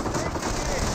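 Continuous rattling gunfire from Company of Heroes 1, with German Grenadiers under fire from advancing American Greyhound armored cars, dense and steady throughout at close range.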